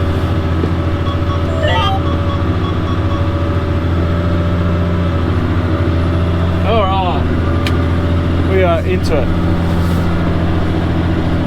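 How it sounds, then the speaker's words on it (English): A tractor engine drones loudly and steadily while seeding canola in a field. Someone talks briefly over the constant low rumble. "Oh, where you going, tractor?"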